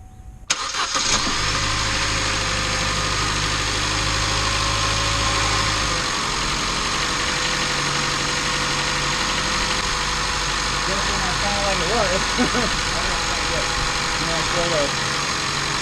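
A car engine cranks and starts after a repair by a mobile mechanic, then settles into a steady, loud idle that runs continuously. A voice is heard faintly near the end.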